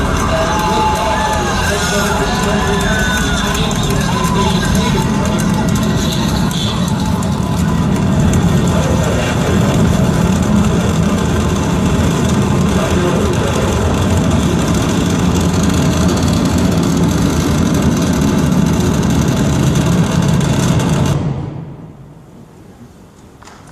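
Space shuttle engines roaring at launch ignition, a loud, dense, sustained rumble with crowd-like texture for about twenty seconds before dropping off abruptly.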